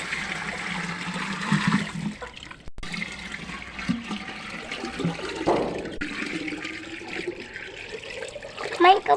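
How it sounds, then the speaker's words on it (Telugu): Water is poured into a newly bought clay pot, a continuous gushing and splashing stream that shifts in tone as the pot fills, with faint voices in the background. "మమ్మీ వాటర్ పోస్తున్నారు"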